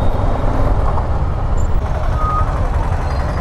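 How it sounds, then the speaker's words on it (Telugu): A road jammed with traffic, a continuous low rumble of idling trucks, buses and cars nearby with a brief higher tone, loud and steady, no clear talking. "రోడ్డు ఫుల్ జామ్ అయిపోయింది ఇక్కడైతే."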